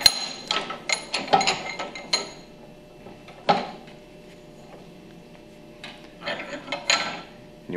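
A 5300 piston pump is flipped over on a workbench, producing a cluster of close metallic clanks, knocks and rattles, a sharp thud midway, then a quiet gap before more clattering handling.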